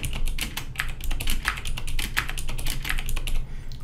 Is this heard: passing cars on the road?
no